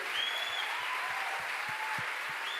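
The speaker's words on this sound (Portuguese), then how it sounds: "Eu quero que a igreja aplauda Jesus por essa família." Steady applause from a church congregation, a continuous wash of clapping that holds evenly throughout with no voices standing out.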